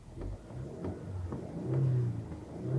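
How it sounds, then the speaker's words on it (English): Inside the cabin, the engine of a 2020 Subaru Legacy XT cranks and settles into a low, muffled idle, quiet and subdued with a slight rise in revs. "push this button here to fire up the engine"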